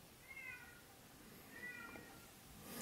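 A pet cat meows twice indoors, two soft, fairly quiet calls about a second apart against low room noise.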